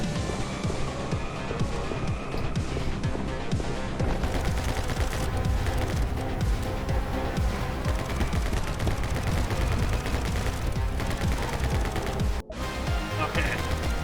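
Constant rapid gunfire fills the action video game My Friend Pedro, loud and dense throughout with a brief dropout near the end, layered over game music.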